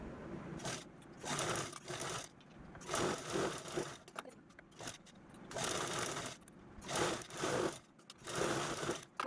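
Sewing machine stitching fabric along three pinned sides of a small handmade pouch, running in repeated bursts of rapid mechanical whirring separated by brief pauses, close and fairly clear.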